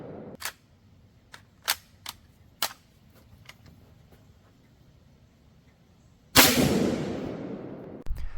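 An 8mm Mauser Carcano rifle with poor extraction and sticking cases gives several sharp, close metallic clicks of bolt handling, then one loud, near gunshot whose echo dies away.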